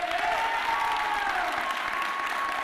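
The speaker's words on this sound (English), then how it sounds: "To my fellow peers, clap it up for yourselves." Graduates at a high school graduation ceremony applaud themselves in a continuous, full wash of clapping, with faint whistles or cheers tracing above it.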